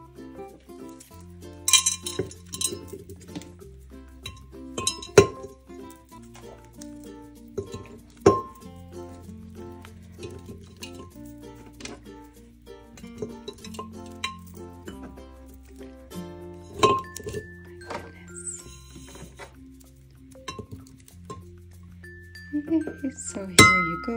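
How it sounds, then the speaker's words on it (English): Bath bombs are set down one by one into a Hello Kitty spa container, producing scattered light clinks and taps of hard plastic and packaging across a quiet room, with a voice speaking intermittently. "this is where I'm going to put my bath bombs"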